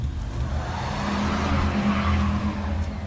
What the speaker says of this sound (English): The tires spun on the ice for this terrifying second before catching, and we started moving.